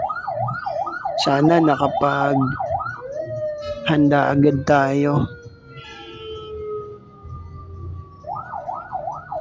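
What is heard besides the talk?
ambulance siren in city traffic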